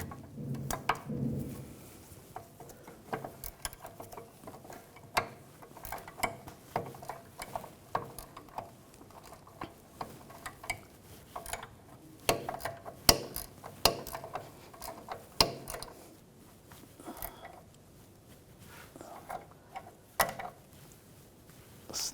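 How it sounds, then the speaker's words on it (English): An 18 mm ratchet wrench tightens a rear sway bar link nut on a 2006-2010 BMW 550i while a 5 mm hex holds the stud, producing scattered sharp ratchet clicks in uneven bursts against a quiet garage background. "I'll tighten the bottom one as well. Same 18mm ratchet wrench, 5mm hex."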